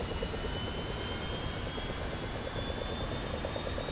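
The right jet engine of an F-4C Phantom during a simulated cold start in the DCS flight simulator, producing a continuous loud roar with a high, steady whine and no voices over it.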